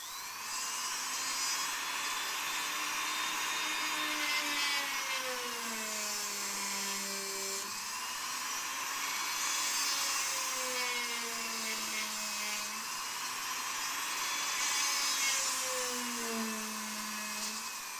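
Wood lathe motor running steadily with a high, sliding whine as a drill bit bores holes into a square workpiece, the pitch rising and falling through several cuts, close and continuous with no talk.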